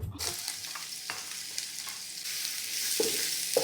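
Onions fry with cardamom and cumin in a pot for Arabic kabsa, a continuous close sizzle with occasional stirring scrapes and knocks, steady and moderately loud, no voices.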